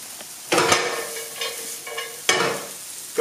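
Onions sizzle in butter in a pan, with loud frying bursts and stirring scrapes that swell and fade in a few waves, close up and without talk.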